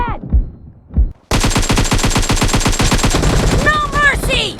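Rapid automatic gunfire in the mobile battle royale game PUBG Mobile, loud close bursts after a couple of isolated shots, then a fast sustained volley with metallic pings near the end.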